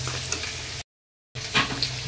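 Mutton frying in a spiced masala in a pan, a steady close sizzle broken by a brief total dropout mid-clip, with occasional stirring clatter and no talk.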